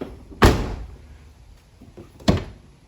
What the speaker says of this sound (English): here's how the door closes now.